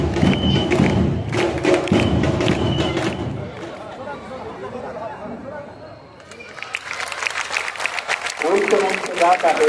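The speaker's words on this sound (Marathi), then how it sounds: "जोरात टाळ्या होऊ दे." Students and guests at an Independence Day school assembly and flag salute break into crowd applause and thumping, with voices and chatter over it. The noise fades to a quieter stretch, then a second burst of clapping follows.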